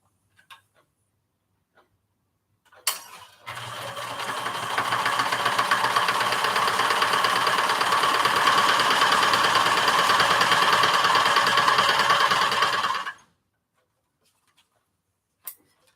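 A sewing machine stitches fabric for scrappy quilt squares in one continuous run of about ten seconds, a steady, close mechanical whir that starts and stops abruptly, with quiet before and after.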